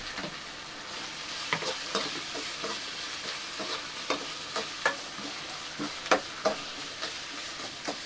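Chopped tomatoes frying in a pan during a cooking class, a steady sizzle with repeated scraping clicks as a spoon stirs and mashes them, close and without talk.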